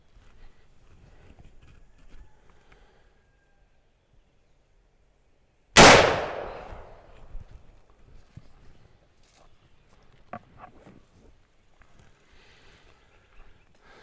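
A single heavy, booming shot from a 50-110 lever-action rifle with a muzzle brake firing a 650 grain bullet, close and loud with a long decaying tail, set between quiet stretches and faint handling noises.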